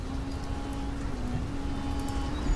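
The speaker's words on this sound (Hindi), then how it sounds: "ये बारिश बहुत तेज हो गई है।" Heavy rain falls in a steady, dense hiss with no breaks, with a faint low hum running underneath throughout.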